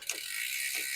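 A bicycle shifter clicking as the rear derailleur cable is tensioned on a randonneuring bike build, giving a couple of faint, close mechanical ratchet clicks.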